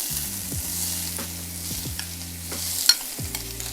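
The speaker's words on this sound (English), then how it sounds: "the first thing we want to hear is that sizzle when it gets in there" Green beans sizzle steadily in a hot pan, a constant hiss with a few clanks and scrapes of stirring on top.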